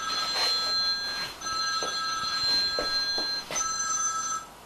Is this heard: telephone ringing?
yes